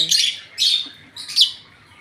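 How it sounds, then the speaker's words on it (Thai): Lovebirds in a communal cage giving three bright, sharp chirping bursts in quick succession, close and fairly loud. "เป็นนกเลิฟเบิร์ดที่เลี้ยงแบบกรงรวมนะคะ"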